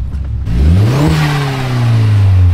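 Car engine revs up hard in one close, loud sweep, rising in pitch and then holding a strained high drone.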